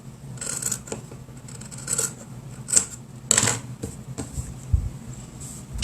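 Scissors cutting layered fabric for a 3D cloth face mask, a series of short crisp snips and rasping cuts at irregular intervals, close and moderately loud over a quiet room.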